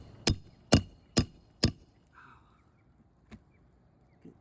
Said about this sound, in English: Finish nailing that in.